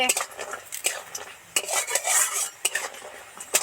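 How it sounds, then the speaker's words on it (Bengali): Lentil dumplings (bori) frying in a pan for a Bengali bata fish curry with potato and eggplant: a spatula scrapes and clinks against the pan in quick, uneven strokes, close and fairly loud, with a light sizzle underneath and no talking. "এবার বড়িটা ভেজে নেব"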